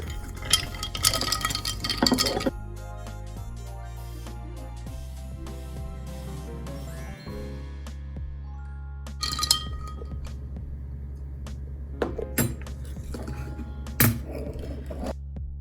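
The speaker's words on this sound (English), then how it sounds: "give that a little stir." A gin-based Christmas martini is stirred in a glass. Sparse bright clinks come in small clusters over a low, steady background hum.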